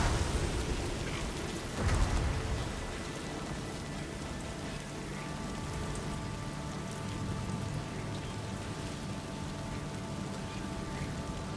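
Steady timefall rain in Death Stranding 2: On the Beach hisses as a dense, continuous wash, with a brief louder rumble early on and a low musical drone underneath.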